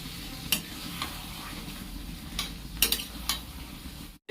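Taro and potatoes being tossed and stirred in a hot frying pan for a taro and prawn curry, with a spatula scraping and clinking at intervals over continuous close sizzling.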